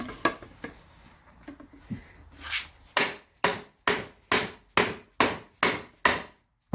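A Harley-Davidson fork tube is pounded down to seat its retaining ring: after a few scattered light taps, about nine sharp, evenly spaced hammer blows ring out close and loud, alone.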